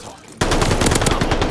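Rapid bursts of automatic gunfire in Call of Duty: Vanguard erupt after a brief quiet moment, loud and continuous like a machine gun firing in quick succession.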